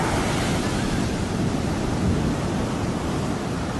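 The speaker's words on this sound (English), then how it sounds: "rogue waves slamming into cargo ships to powerful surges sweeping across beaches" Massive ocean waves crash in an unbroken, loud roar of churning surf, heavy and steady throughout with wind rushing across the microphone.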